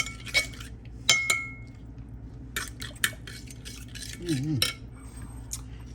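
Mixing buttermilk and buffalo wing sauce in a bowl with a utensil, giving scattered clinks and scrapes against the bowl at close range, with a brief low vocal hum partway through.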